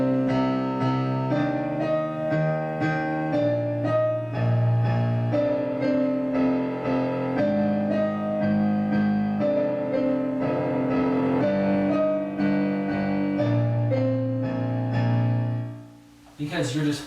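Solo piano plays the Shin Gojira theme, slow sustained chords over deep bass notes in a steady, heavy progression, full and close, ending with a brief noise.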